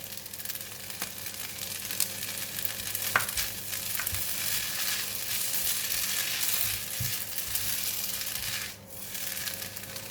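Lou Shu Fun rice pin noodles and bean sprouts fry in a pan with a constant loud sizzle, broken by occasional scraping stirs, with no talking.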